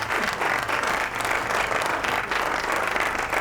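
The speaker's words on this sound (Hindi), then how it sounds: "तालियां हो जाए जी" A studio audience at a Ramadan quiz show breaks into steady, sustained applause after a correct answer. The clapping is dense and even and carries on throughout with no voices over it.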